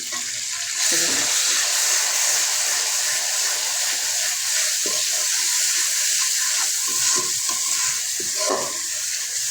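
Ginger-garlic paste and spices fry in a pan for a sweet date-jaggery olive chutney, a continuous bright sizzle with scattered soft stirring scrapes and clicks, steady and close, without talk.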